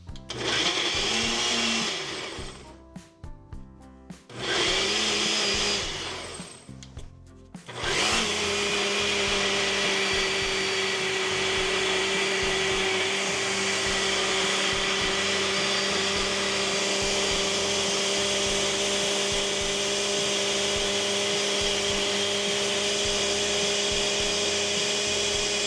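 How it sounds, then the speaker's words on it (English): A Ninja Auto IQ blender whirs through cottage cheese, blueberries and about a cup of water, starting in two short pulses before settling into a loud, steady high-speed run that continues to the end with no talking. "get this on the blender. I'm using a Ninja Auto IQ blender."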